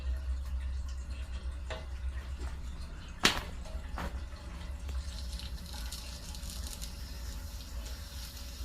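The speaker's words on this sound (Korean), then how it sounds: "왜물 흐르는 소리가 왜 시냇물이 저저저 흐르는 소리가 나지?" Soft trickling and gurgling water runs steadily at low level through radiator heating pipes with trapped air, with a sharp knock or click partway through and a few faint clatters.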